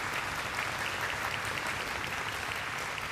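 A standing audience applauds at a memorial concert, a full, continuous wash of clapping from a large crowd, steady and unbroken from start to finish with no voices over it.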